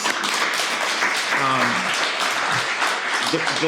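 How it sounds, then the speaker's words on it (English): An audience at an annual watershed meeting applauds, steady dense clapping at close range with a few voices mixed in throughout. "let's one more time applaud for yourselves"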